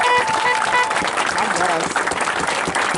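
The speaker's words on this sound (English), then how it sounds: "Let's give that a round of applause." Protest crowd applauding at an outdoor Washington DC rally, steady clapping and cheering that fills the whole moment, with a voice speaking over it.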